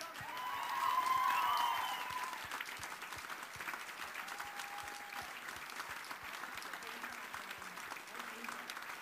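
Audience applause fills a German stage show, a steady rolling wash of clapping that swells early with a brief cheer or whoop, then continues evenly at moderate volume.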